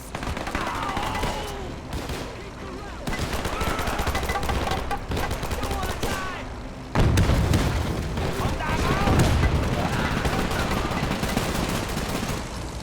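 Gunfire and explosions crackle through a Men of War 2 battle, a dense run of shots with a heavier blast near the midpoint, mixed under game music and effects with a voice talking.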